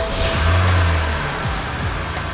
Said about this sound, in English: So we're just gonna press the ignition.